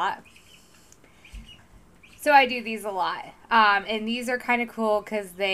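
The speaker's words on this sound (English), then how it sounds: "if you hear squawking and everything in the background, it's because the guinea hens are in" Guinea hens squawk faintly in the background indoors, brief and soft beneath someone talking in the foreground throughout.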